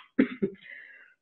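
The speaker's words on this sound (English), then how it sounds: "I'm starting to cough." Two quick, close coughs followed by a short breathy exhale, fairly quiet and isolated.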